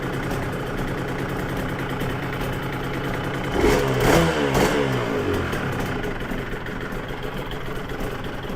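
Yamaha TZR 250 3XV motorcycle engine running loud and close on choke, a steady two-stroke idle that swells into a brief rev around the middle before settling back to an even, buzzing drone.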